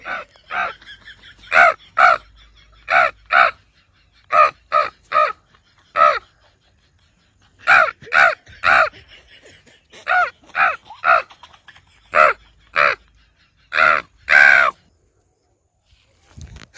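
A human voice imitates a crow, giving a long series of short, harsh caws in uneven bursts, loud and close.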